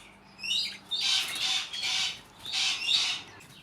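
Cockatoos kept among pet red-rumped parrots give several harsh, rising squawks in quick bursts at close range over a quiet background, with no voices.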